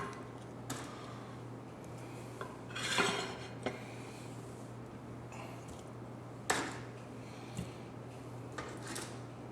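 Baked Cajun wings are plated onto a serving tray with a bowl of ranch, scattered close clinks and knocks of dishes and utensils at irregular intervals over a quiet room.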